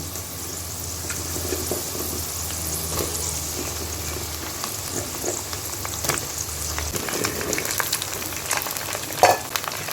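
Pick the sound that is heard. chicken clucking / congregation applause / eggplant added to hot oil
eggplant added to hot oil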